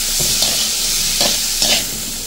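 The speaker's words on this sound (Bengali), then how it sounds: "চলো আজকে একটু বিন ভাজা করি" Green beans fry in a pan with a loud, steady sizzle, broken by a few distinct scraping stir strokes near the start, middle and end; close and uninterrupted by speech.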